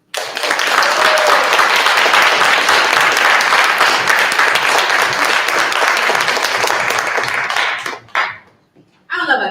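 A theater audience at a narrative monologue competition breaks into loud, sustained applause and cheering that holds steady for several seconds, then tapers off abruptly near the end.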